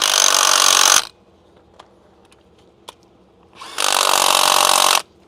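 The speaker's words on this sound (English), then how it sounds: "Grab our impact gun." An impact wrench rattles in two loud bursts, about a second each, while working on a car timing belt job, with a quiet pause and a couple of faint clicks between them.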